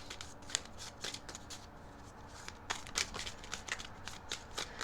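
Tarot cards being shuffled, a run of quick, crisp riffling flicks in irregular bursts, close and fairly quiet, with no talking.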